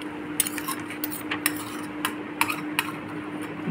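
A spoon clinks against a bowl while fried snack mixture is tossed with onion, green chili, peanuts and mustard oil, with several sharp metallic taps and scraping stirs over a low steady background hum.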